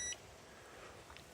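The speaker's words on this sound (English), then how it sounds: "this should beep when we get continuity" A short electronic multimeter continuity beep sounds once at the very start, then the sound drops to faint room noise.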